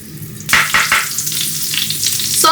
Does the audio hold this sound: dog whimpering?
no